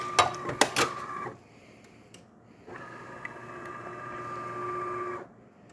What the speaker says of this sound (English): Grind the beans, deposit them into the brew unit, the transmission will push it into the generator, and the generator will extract it into the cup.